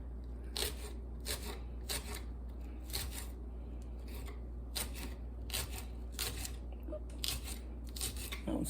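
Knife slicing vegetables on a cutting board for pickled eggs, a run of crisp, irregular cutting strokes close by over a steady low kitchen hum.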